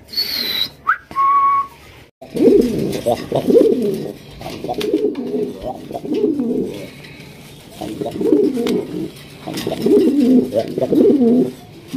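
Bombay pigeons coo in repeated low, throaty bursts through most of the clip, opening with a few brief whistles, with no talking.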